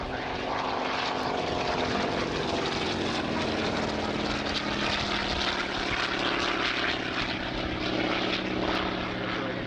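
A Hawker Hurricane propeller fighter flies overhead at an air display, its piston engine producing a loud, sustained droning roar that holds steady throughout.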